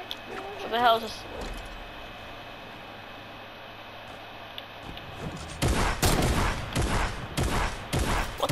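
Rapid bursts of Fortnite gunfire crackle in the second half, loud and close, with a short vocal sound early on before a stretch of quieter game ambience.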